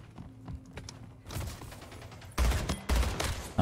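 Assault rifle firing in bursts in Splitgate, a sci-fi arena shooter: a couple of short, punchy rapid-fire volleys that grow louder, with fainter shots and movement beforehand.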